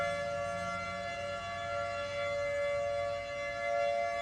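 Tornado warning sirens wail continuously over Davis, Oklahoma during a severe storm, a steady sustained tone with harmonics and slight swells in loudness, no talking.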